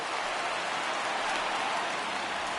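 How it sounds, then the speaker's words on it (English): Steady rain falling on a baseball field in a PS4 baseball video game, a dense, even hiss that stays constant and fairly loud throughout, with no voices. "I don't know how much more rain this field can take"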